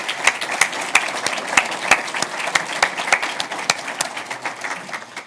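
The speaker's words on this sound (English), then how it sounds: "So if you join me in giving them a round of applause" An audience at a panel talk on machine intelligence claps together in steady, moderately dense applause, close and loud throughout.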